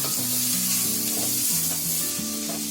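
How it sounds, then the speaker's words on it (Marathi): Chopped onions fry in a pan for a pepper mushroom dish, giving a steady close sizzle with stirring scrapes and a continuous crackle throughout, with no talking. "इथे कांदा पण बघा चांगला फ्राय झालाय"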